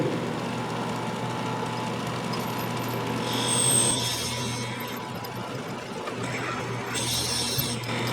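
A drill bit bores a hole into a wooden Christmas ornament turning on a lathe, producing a continuous grinding hum with hissy cutting noise that swells and eases as the bit feeds in and backs out.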